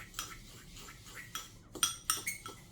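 Sugar being mixed into an aloe vera face scrub in a small bowl: light, quick spoon clinks and scrapes in a brief, quiet rhythm, close by.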